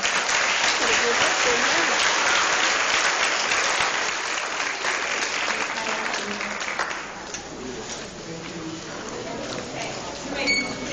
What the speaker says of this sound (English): Please give yourself a round of applause for Dr.